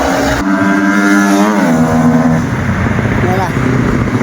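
A racing tricycle, a Raider motorcycle with sidecar, takes off with a loud rising engine rev that drops as it shifts and carries on roaring nearby, while someone talks over it.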